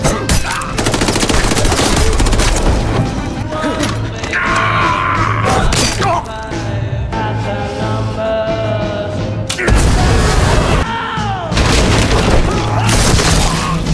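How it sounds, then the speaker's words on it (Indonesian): Rambo film battle with screams mixed into dense gunfire and booming blasts, loud and continuous with heavy low rumble and a layered soundtrack throughout. "suara teriakan berpadu dengan suara tembakan menciptakan teror psikologis"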